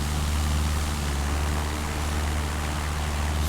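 A propeller airplane climbs in a flight simulator game, its engine a steady, dense drone with a low hum underneath that stays loud and unchanging throughout, with no voices.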